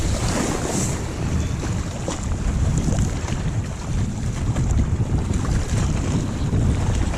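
Strong wind at Pyramid Lake buffets the microphone in a constant, loud rush mixed with the wash of choppy water, with no talking heard.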